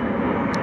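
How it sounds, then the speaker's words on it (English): An airplane flies overhead, its engine a steady, loud broadband drone filling the brief moment without any voice over it. "Airplane."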